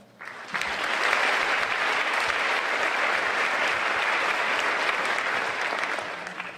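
An audience at a county public schools elementary music festival breaks into sustained applause, a dense, steady wash of clapping from many hands that rises quickly and holds for several seconds before easing slightly.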